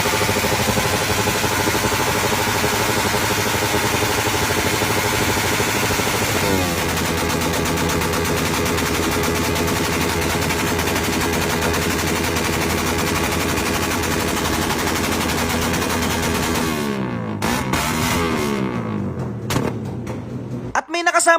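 Motorcycles fitted with loud custom exhaust pipes rev at a motor show in Bataan, a sustained, harsh, rapid crackling roar with voices talking, before the engines cut and fade near the end.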